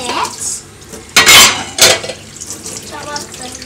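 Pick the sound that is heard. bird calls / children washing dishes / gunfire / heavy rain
children washing dishes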